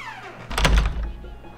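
A door opening in the video game The Song of Seven, heard as a single dull, solid thunk with a short resonant body that fades over about a second.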